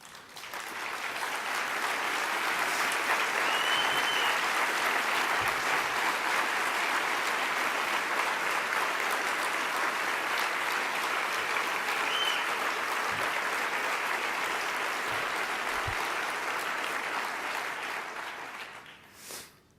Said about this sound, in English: so we can give you an applause